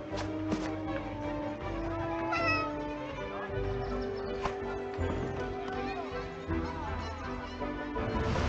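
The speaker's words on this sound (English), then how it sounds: "I couldn't believe Kurt still had that cat" A cat meows in the video game 11-11 Memories Retold, with short cries surfacing amid a dense game soundscape of music and ambience while speech runs over it.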